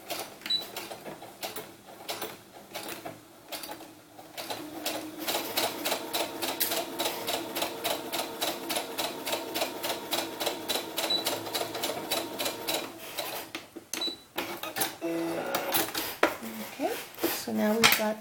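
A sewing machine stitches doll sailor cap brims with a rapid, even rhythmic clatter, a few short bursts followed by a long steady run of stitching, close and fairly quiet.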